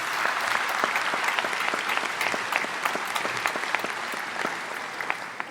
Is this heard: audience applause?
yes